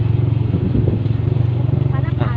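A motorcycle being ridden on a road trip, its engine droning steadily and loudly up close throughout, with a steady low rumble and road noise and no clear speech.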